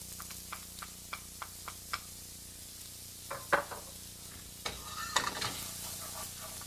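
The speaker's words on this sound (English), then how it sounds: "we're going to want to cook the onions a little bit" Half a cup of onions cooks in a pan for a lentil dish, starting with a run of light, evenly spaced ticks and taps, then a few louder stirring scrapes over a soft, close sizzle.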